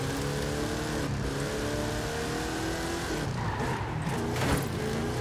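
Tires squeal and skid as a car drifts in Forza Horizon 5, with a loud continuous engine roar and shifting whine running throughout.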